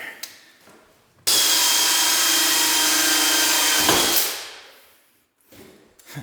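A power drill whines steadily for about three seconds while boring through a wooden Victorian floor, then winds down and stops; loud and close, with faint handling noise around it.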